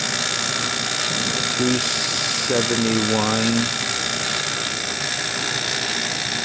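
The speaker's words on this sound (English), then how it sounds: "I'm just going to let my vacuum continue" A vacuum pump runs steadily while pulling down an HVAC system to remove moisture, a constant mechanical drone throughout, with a person talking briefly over it partway through.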